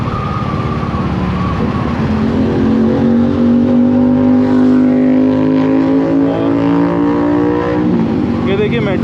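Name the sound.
motorcycles arriving at a gathering spot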